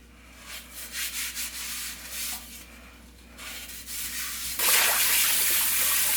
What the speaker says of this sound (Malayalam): അപ്പോൾ ഇത് നമുക്ക് നന്നായിട്ടൊന്ന് കഴുകിയെടുക്കാം